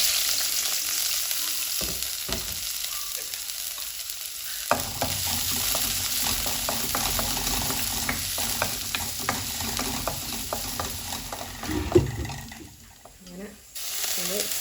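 Continuous crackling sizzle of shallots frying in coconut oil, with occasional stirring clinks and a person talking over it.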